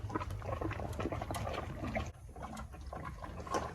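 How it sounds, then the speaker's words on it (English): Gurgling, bubbling coolant in the rusty cooling system of an old vehicle being warmed up, a steady wet churn with scattered pops and trickles, fairly close and continuous. "Definitely got some gurgling going on in the cooling system."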